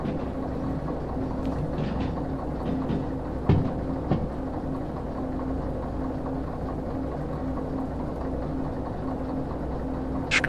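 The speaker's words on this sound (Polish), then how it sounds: "tu jakoś głośno ta lokomotywa pracowała" Locomotive in the Derail Valley train simulator game, running loudly with a steady low engine drone and rumbling rail noise throughout, a few brief knocks and clatters, no one talking.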